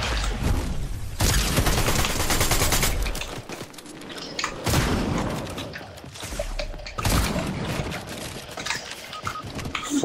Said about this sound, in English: Finally, Fortnite has a good update. Okay, finally shot the shotgun.